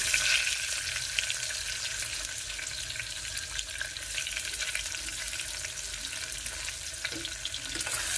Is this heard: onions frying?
yes